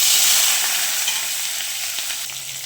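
Star fruit pieces sizzle in very hot oil over a blackened tempering of dried red chilli and mustard seeds, a bright, steady crackling hiss that eases slightly as it goes, with no talking.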